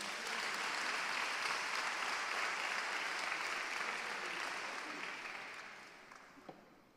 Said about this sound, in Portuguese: Você pode dar um aplauso ao Senhor nesta...